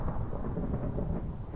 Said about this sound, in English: Well, we're gonna see if we can get some lightning strikes to happen.